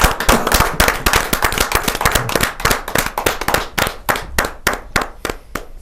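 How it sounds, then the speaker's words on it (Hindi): Audience at a Hindi kavi sammelan poetry gathering applauds loudly to welcome Urdu poet Ana Dehlvi. Dense, crackling clapping fills the room, then thins toward the end into sparser, distinct claps. "इसलिए मैं बड़े जोरदार तालियों के साथ स्वागत करता हूं"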